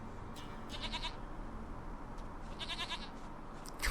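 Goat in The Witcher 3 bleating in a few short, wavering calls at moderate distance over a low steady ambient bed.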